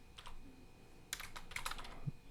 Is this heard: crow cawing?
no